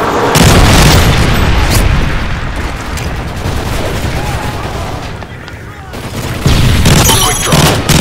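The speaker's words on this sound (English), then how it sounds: "Friendly Predator missile inbound." A Predator missile detonates in Call of Duty Modern Warfare 3 multiplayer, a loud, dense rumbling blast mixed with bursts of gunfire that swells again near the end.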